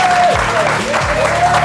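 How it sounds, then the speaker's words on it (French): Studio audience applause on a French television talk show, a dense, steady clatter of clapping that fills the short moment with some tonal sound and voices mixed underneath. "On applaudit."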